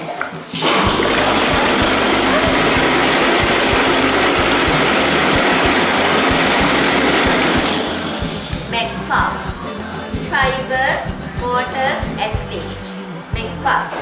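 A machine blending fiber and water into pulp for elephant dung paper roars loudly and steadily for several seconds, then drops to a lower churning with clinks and voices talking over it.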